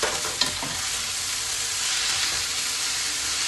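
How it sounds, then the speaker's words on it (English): Sliced beancurd and fresh leek frying in a pan with dry shrimp: a steady, close sizzle with a few clinks of stirring near the start. "Fry for a while and add in the fresh leek. Fry until fragrant."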